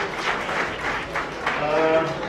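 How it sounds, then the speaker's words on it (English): Audience applause at a live event, steady sustained clapping from a crowd with voices mixed in throughout. "long clap for it"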